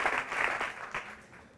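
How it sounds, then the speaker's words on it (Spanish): Congregation at a Catholic service clapping in a brief, fairly faint burst of applause, irregular claps fading slightly over under two seconds. "Fuerte el aplauso"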